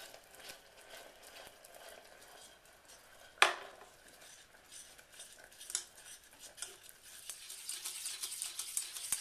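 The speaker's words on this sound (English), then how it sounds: "I'm going to start whisking, and I'm also going to put this back on the heat" Whisking caramel with butter in a pan over medium heat: faint, steady metallic scraping and light tapping of a whisk against the pan, with one sharp clink partway through and quicker, busier strokes toward the end.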